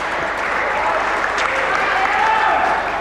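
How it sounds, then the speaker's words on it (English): A big crowd at an indoor cricket match, the 1999 national championships between Tasmania and Western Australia, fills the hall with steady, loud applause that rolls on without a break. "Big game in front of a big crowd."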